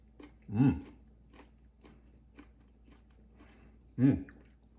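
Two loud, crisp crunching bites of pickled bamboo shoot a few seconds apart, close up, with quieter chewing in between.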